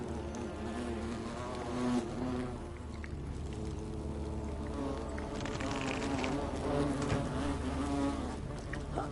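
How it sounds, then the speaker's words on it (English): Bees buzzing in the video game The Forgotten City, a continuous droning hum from a swarm that wavers slightly in pitch and loudness, quiet and steady throughout with no talking. "because I'm pretty sure there's a trophy for dying to the bees."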